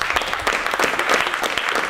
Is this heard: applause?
yes